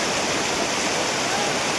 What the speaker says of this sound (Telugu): వాటర్ ఫ్లో అయితే చాలా ఎక్కువైతే ఉంది